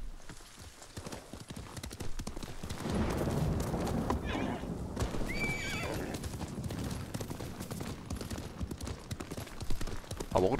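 Horse ridden at a steady pace in the video game Ghost of Tsushima, with continuous hoof clip-clop throughout and a clear whinny midway, all at moderate loudness.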